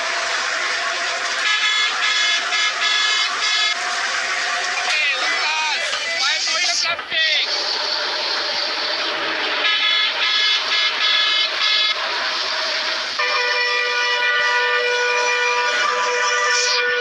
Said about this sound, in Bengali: আর মানে বাসের সাউন্ডগুলো একটু শুনেন, আর হর্নগুলো একটু শুনেন।